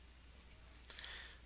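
Computer mouse right-clicks while working in Microsoft Word, a few small sharp clicks in quick succession, close and quiet against a faint background hum.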